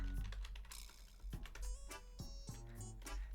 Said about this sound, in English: I'm typing to them in chat.